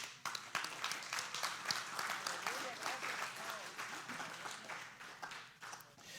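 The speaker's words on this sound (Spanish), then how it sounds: "¿Usted le da palmas al Señor?" A church congregation claps in a quick, rhythmic beat for the Lord, with voices mixed in among the steady pulse of hands.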